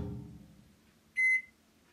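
An 800 watt microwave oven gives one short, clear electronic beep partway through as it is set. A faint low fading sound comes before it in an otherwise quiet room.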